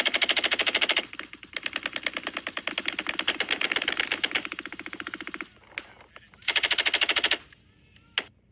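Machine guns fire live during a joint US-Philippine military exercise, with long rapid bursts, a pause with scattered single shots, then another loud sustained burst and a final shot.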